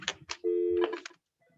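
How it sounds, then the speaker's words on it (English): An office desk telephone rings once, a short steady electronic tone heard close, with brief speech just before and faint sounds trailing after. "Paulie, would you get that phone?"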